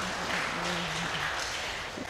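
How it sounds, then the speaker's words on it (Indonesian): Applause from the audience at a book discussion event, a continuous wash of clapping filling the whole short stretch, with faint voices underneath. "tepuk tangan buat Habib Jafar"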